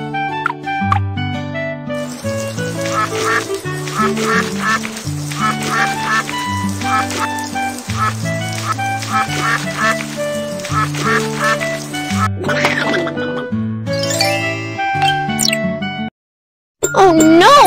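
A cartoon duck quacks in a children's pet care game, with bright bouncy music, chimes and tinkling effects playing loudly throughout and a short break near the end.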